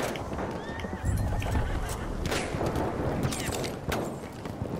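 Horse neighing and whinnying in the Battlefield video game, with clip-clop of hooves, loud and repeated over battle noise.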